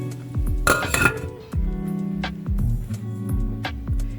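A pot of stuffed vine leaves with pumpkin is set on a kitchen stove, giving a brief burst of metallic clanks and clinks near the microphone before quieter handling sounds.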